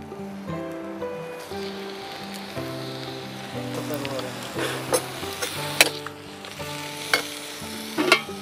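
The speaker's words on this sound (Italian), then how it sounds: "si prende la carne dell'agnello e si fa rosolare in padella insieme a queste verdurine e gli aromi" Lamb meat browns in a pan with vegetables and herbs, a steady close sizzle with occasional stirring clacks and scrapes, while a person talks over the frying.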